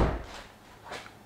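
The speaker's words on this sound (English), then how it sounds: "I'm going to pull this very difficult to open, very flimsy handle to open the door." The manual door handle of a 2022 Lexus NX is pulled and the door unlatches, giving a soft thump and then a short click.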